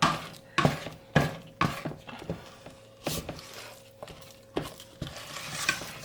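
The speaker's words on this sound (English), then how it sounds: "So as I keep stirring it, it goes quite stiff." Homemade playdough is stirred in a cooking pan as it stiffens, giving irregular scraping knocks and clanks of the utensil against the pan, close up, with a faint hum behind and no talking.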